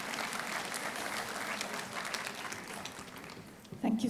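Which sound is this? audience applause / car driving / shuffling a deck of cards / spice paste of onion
audience applause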